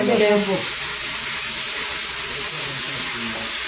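Water runs steadily from a tap during a dog's bath, a constant close hiss of spray with a voice briefly over the start.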